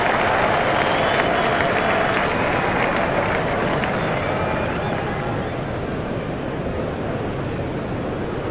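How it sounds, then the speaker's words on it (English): A stadium crowd in an EA Sports IPL 2020 T20 cricket game, RCB vs MI, roars and applauds a boundary four. The roar is loud and sustained for the whole stretch, easing slightly toward the end. "The crowd were brought to their feet by that shot."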